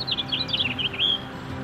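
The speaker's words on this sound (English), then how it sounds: "Their chirp sound is like that of a young house sparrow." A house finch gives a quick series of high, bright chirps and twittering notes, close and fairly loud over faint low background hum, with no voices.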